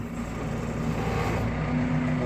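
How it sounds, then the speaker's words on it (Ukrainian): A tractor engine idles while lifting a mechanical corn seeder, giving a steady, fairly loud low rumble with a slight hum on top. "трактор її на холостих легенько"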